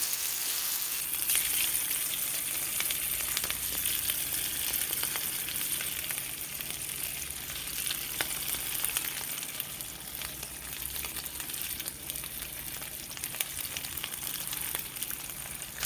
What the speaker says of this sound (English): 3, 6, 9 of them in the pan frying together